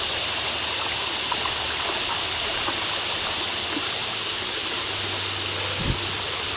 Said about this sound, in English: And here we are at the bottom of the falls.